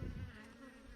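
Honey bees buzz in a hive while a queen is being marked, a low continuous droning hum, close and steady for about a second with no talk.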